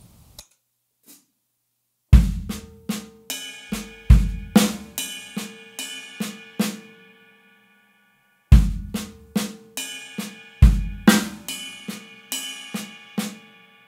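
Drum kit groove played with soft snare ghost notes in triplets: a short pause, then two close, crisp bursts of kick, snare and cymbal hits with quieter ghost strokes between the accents.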